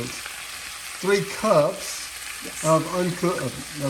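Day-old cooked rice fries in a pan with a steady background sizzle, while a voice speaks briefly over the frying.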